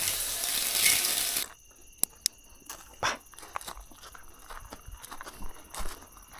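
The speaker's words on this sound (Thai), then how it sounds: "ใช้ได้เลยน้ำไหลแรง" Tap water gushing strongly at a campground washing area, a hiss that cuts off early, followed by faint clatters and light knocks nearby.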